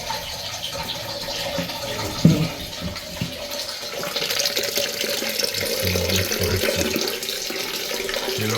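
Water runs and trickles steadily into a leaking Ideal Standard toilet cistern during a repair, close by, with a brief clunk partway through.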